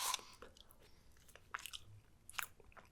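Someone chews Ben & Jerry's low-calorie frozen yogurt with brownie bits close to the mic, with soft, wet bites and irregular faint crunching and smacking sounds.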